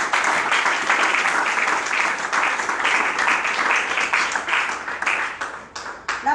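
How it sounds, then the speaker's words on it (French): A church congregation applauds after a scripture reading, a sustained, dense wash of many hands clapping together at moderate distance, steady throughout with no speech over it. "On acclame cette parole."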